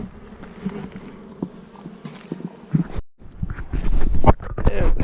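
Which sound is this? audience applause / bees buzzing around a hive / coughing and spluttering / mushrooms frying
bees buzzing around a hive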